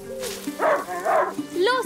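A dog in A Plague Tale: Innocence gives short yips and whimpering barks, close and clear, mixed closely with a voice speaking in German over the same moment.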